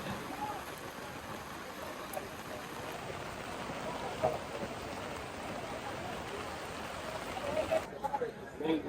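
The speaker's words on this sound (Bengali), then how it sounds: "আবারও বৃষ্টির হানা" Steady rain patters and hisses continuously at a moderate level over a cattle market, with faint voices and a few soft clatters underneath.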